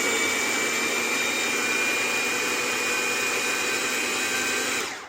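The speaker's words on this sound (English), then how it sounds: "So now we gotta puree the chickpeas a little bit first, okay?" A food processor purees boiled chickpeas for hummus, a loud, steady motor whir with a high whine that runs continuously before cutting off at the end.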